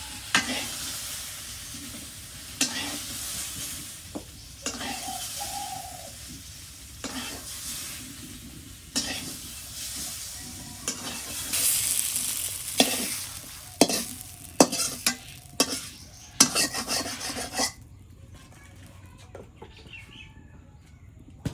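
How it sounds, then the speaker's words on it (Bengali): Food stirs and sizzles in a hot pan, with scraping and clattering utensil knocks scattered throughout, then a quieter stretch near the end. "তেলের মধ্যে ভালো করে ভাজে নিলাম"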